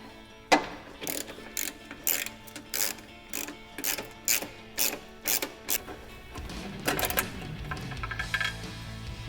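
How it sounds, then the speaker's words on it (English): Ratchet with a 16mm socket and extension turning out bolts that hold a Jeep evap canister skid to the cross member, giving repeated sharp clicking bursts in a rhythmic series, close and fairly loud, then rougher scraping toward the end. "Using a 16mm socket and an extension,"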